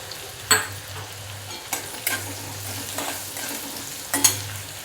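Garlic and green chili frying in oil for a chickpea-leaf vegetable dish, a low continuous sizzle with a few distinct spatula scrapes and clanks against the pan, close and alone.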